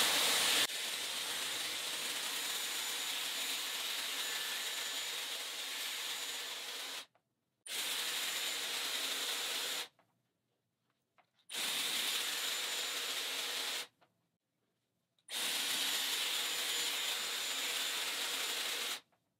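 A Dyson Airwrap hair styler blows a steady broadband rush of air while curling hair, running in four long bursts with short silent gaps between them, fairly close and with no talking.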